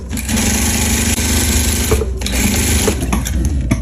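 A sewing machine runs steadily and loudly, stitching a seam on a mermaid skirt with a continuous whirring, mechanical hum and a brief stutter near the middle, with no talking.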